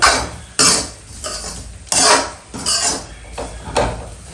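Roasted semolina scraped out of a wok with a metal ladle onto a plate, a series of loud, close scraping and clanking strokes at an uneven rhythm, each fading quickly, with no speech.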